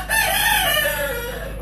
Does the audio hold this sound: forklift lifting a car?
no